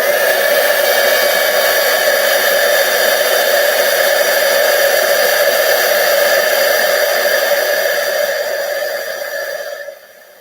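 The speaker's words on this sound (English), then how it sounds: "So we're ready to heat emboss that." A heat embossing tool blows hot air over a card, a loud steady whirring hiss with a fan-like hum that runs unbroken for about ten seconds before cutting off.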